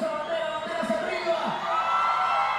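A concert crowd in Spain cheering and singing along, a dense roar of many voices with whoops and chanting, fairly loud and sustained throughout.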